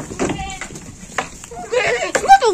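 Goats being let out on a small farm, bleating in short wavering calls scattered over a couple of seconds, with someone talking in between.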